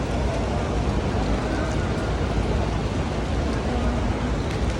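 Rain falling in the courtyard of Masjid an-Nabawi in Madina, a loud, steady, broadband hiss that fills the whole stretch evenly with no breaks.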